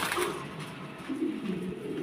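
Young pigeon squabs at a Bangladeshi pigeon farm give soft cooing calls in close, repeated bursts, with a fainter bird background and no talking.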